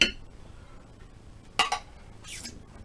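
Utensil clinks and scrapes against a dish while mixing green bean casserole ingredients: a sharp clatter at the start, a louder cluster of clinks midway, then a lighter scrape near the end, close and sparse over quiet background.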